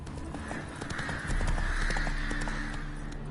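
Horse galloping in The Witcher 3 Wild Hunt, steady hoofbeats with ambient game sound and occasional bird caws, getting louder partway through, with no talking.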